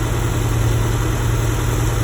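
An Acura Integra that had been running lean idles steadily after cooling system work, its engine producing a loud, even, low rumble that continues without pause and with no other sounds.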